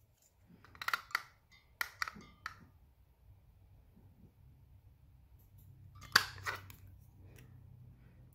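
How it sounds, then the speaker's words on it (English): Scissors snip a paper banner into dovetail ends in a quiet room, a few crisp close cuts in two quick clusters and then a single later snip, with no talk. "I'm gonna take our turtly loved banner and cut little dovetail ends in there."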